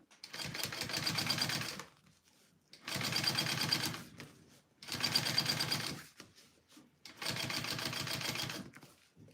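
A home sewing machine fitted with a zipper foot runs in four bursts of rapid, rattling stitching, each about two seconds long and separated by short pauses, fairly quiet with no talk over it.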